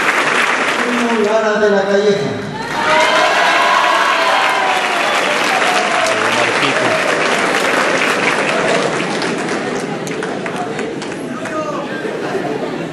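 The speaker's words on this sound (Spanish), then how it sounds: "Es el aplauso de esta amable audiencia" Sustained audience applause at an anniversary congress, loud and dense for over ten seconds, with a brief amplified voice early on and crowd chatter mixed into the clapping.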